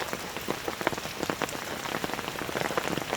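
Rainwater spilling from a downspout into a runoff, a steady close patter of splashing drops and trickling water throughout.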